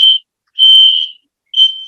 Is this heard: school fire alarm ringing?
yes